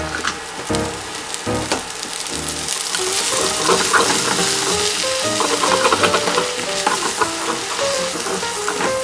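Homemade yakisoba noodles stir-fried in a pan over moderate heat, a loud continuous sizzle with scraping and tossing of the noodles, backed by faint tonal music and no speech.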